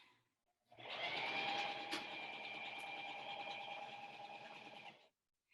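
A sewing machine starts up and runs steadily for several seconds with a fast mechanical whirr, close by, then stops abruptly.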